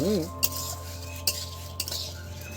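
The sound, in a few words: stirring Basanti pulao in a pot over a clay stove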